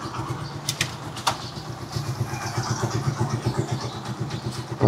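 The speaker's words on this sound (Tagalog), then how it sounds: "Ito yung under ng makina niya." A Rusi Chariot 175 motorcycle engine idles with a steady, close, low throb and even rhythmic pulsing, with a few faint brief clicks over it.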